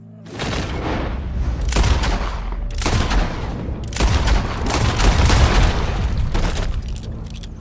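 Repeated loud gunshots fired at an animal in Red Dead Redemption 2, several heavy booming reports in quick succession with echoing tails, close and forceful, alone without talk.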